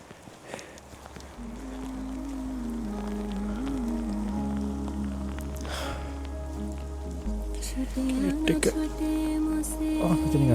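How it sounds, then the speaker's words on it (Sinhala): Rain patters steadily on a winter hike on Box Hill, with a soft continuous wash of drops and scattered sharper taps, growing slightly louder toward the end, alongside a faint low hum. "වැස්ස පොඩ්ඩක් අඩු වුණා guys."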